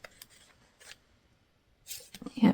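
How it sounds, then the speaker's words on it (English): Tarot cards shuffled by hand during a pick-a-card reading give short papery riffling bursts, fairly close, with the busiest run of shuffling near the end. "as I'm shuffling out these cards"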